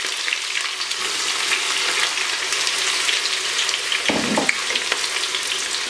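Onions frying in about half a cup of hot oil, with a steady, close sizzle and crackle that continues throughout, plus a brief stir or clatter near the end.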